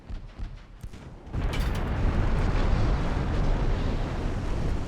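Heavy shells slam into a warship from a broadside in the naval game Ultimate Admiral: Dreadnoughts, a sudden loud roaring impact that swells into a sustained rumbling blast after a quieter opening.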